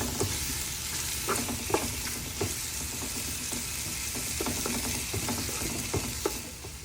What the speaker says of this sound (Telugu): టొమాటోస్ని ఒక టూ త్రీ మినిట్స్ వేయించుకోండి